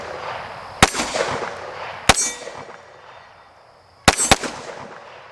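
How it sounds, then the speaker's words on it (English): First shots from a Canik TTI Combat pistol: three sharp, loud reports, two spaced about a second apart and then a quick double near the end, each ringing briefly into a quiet outdoor range. "we're going to go ahead and get the first shots through this pistol"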